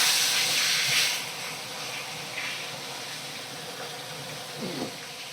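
Bhetki fish pieces fry in a pan with a soft, steady hiss of oil, louder at first then settling into a quieter continuous sizzle with occasional faint pops.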